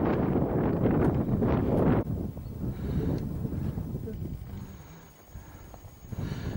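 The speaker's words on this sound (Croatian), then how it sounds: "Ovdje gore malo više puše sada." Wind gusting across an exposed hilltop on the trail from Brseč up Sisol, Croatia: a broad, rushing roar, strongest and most buffeting in the first two seconds, then settling into a lower, steadier rumble.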